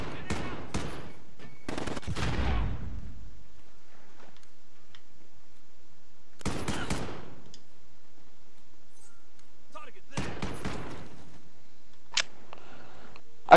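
Bursts of automatic gunfire ring out in a hardcore team deathmatch on the Atlas Superstore map in Call of Duty: Modern Warfare. Short loud rattling volleys are split by quiet gaps, and a few sharp single clicks follow.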